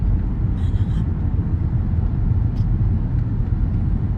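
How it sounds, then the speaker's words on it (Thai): Cars sit in heavy stop-and-go traffic on a congested road, heard as a constant low engine rumble and road drone from inside or beside a vehicle, loud and steady with brief faint higher noises. "โอ้ยรถติดมาก"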